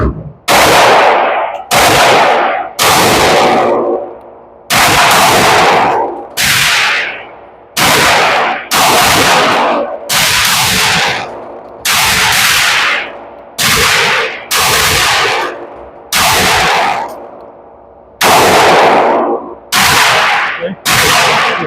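Sharp, loud pistol shots from a Sig Sauer P365 AXG Legion and a Glock 43X fired at targets on a range, about sixteen reports in irregular bursts, each with a short echoing decay, no talking.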